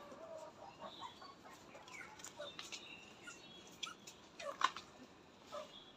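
Chickens in a backyard coop give soft scattered clucks and short calls, faint and close over a quiet hissy background, with a few sharper peeps rising briefly.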